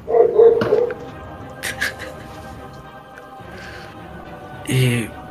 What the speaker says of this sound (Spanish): silénciese hasta que usted calle su perro